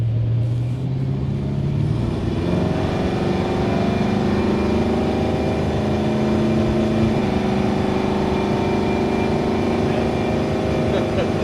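A 1989 Chevrolet squarebody crew cab short bed truck with a 502 big block engine pulls onto the road on all-terrain tires, its low engine rumble rising through the gears as steady road noise builds.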